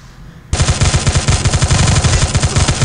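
Sustained rapid automatic gunfire from a weapon in the mobile shooter game Free Fire MAX, bursting in loud and close after a short quiet lead-in and continuing as a dense, steady rattle of shots.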